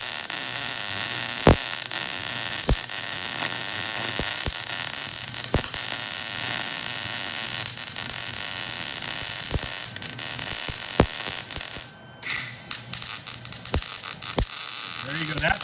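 A welder runs on a Chevrolet C-10/20 truck frame being shortened, producing a continuous crackling buzz punctuated by sharp pops, then a brief pause near the end.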